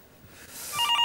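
A telephone bell begins ringing in an office-style setting, the tone rising out of quiet and growing loud in repeated bursts near the end.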